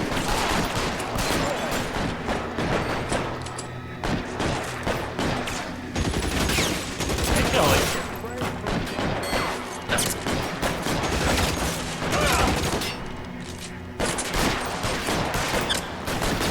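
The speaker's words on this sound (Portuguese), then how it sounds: "Nossa, levou um tiro." Dense rapid gunfire in the video game L.A. Noire crackles almost nonstop, bursts of automatic shots overlapping with scattered single shots, loud and close throughout.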